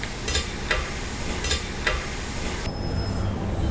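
Omam mullu murukku dough deep frying in hot oil, with a steady sizzle and several sharp bursts of crackle through the first half before it settles into a softer, even hiss.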